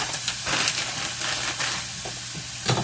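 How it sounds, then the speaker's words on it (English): Onions frying in a skillet, a steady close sizzle and hiss with soft scraping as the pan is tossed, no talking. "So give my onions a few tosses."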